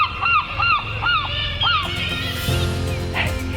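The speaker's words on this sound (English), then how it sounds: "Just listen to those kittiwakes and gulls." Kittiwakes and gulls call along the coast at the Bullers of Buchan in Aberdeenshire, Scotland, a run of four sharp, rising-and-falling cries close by, followed by wind buffeting and softer distant calls.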